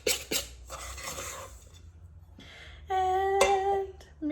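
Spoon clinking and scraping against a bowl while stirring a mixture in a science lesson, a few scattered taps followed by a short ringing metallic tone.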